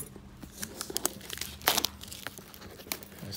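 Wrapping on a box of Court Kings basketball cards crinkles and tears at a card shop, with scattered close crackles and one louder ripping burst midway.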